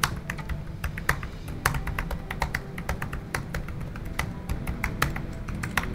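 Typing on the keyboard of a Lenovo YOGA 7 laptop: a steady stream of soft, quick key clicks at an even pace, faint and recorded close up.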